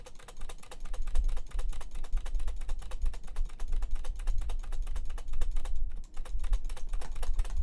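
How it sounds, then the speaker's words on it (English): Rapid, steady keystrokes on a computer keyboard, close and fairly loud, continuing alone for the whole stretch with no talk. "I'm just tippy-tapping on the keyboard."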